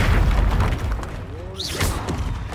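A Confringo fire spell blasts off with a booming, explosive burst in the Hogwarts Legacy video game, set in the Dark Forest. Game effects and background music surround it, and a voice speaks over the sound.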